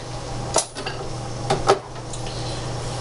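A 1946 Frank Sinatra radio disc being set into a dish rack, with a few hard clattering knocks of the disc against the rack over a steady low hum, close and short.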